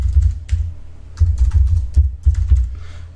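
Rapid bursts of keystrokes on a computer keyboard entering a password, close and crisp, in short irregular runs with brief pauses between them.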